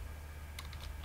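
A few quick, faint keystrokes tap on a computer keyboard while Python code is typed, a short soft burst of clicks over a quiet background hum.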